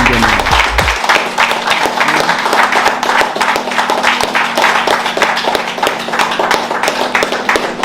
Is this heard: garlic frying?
no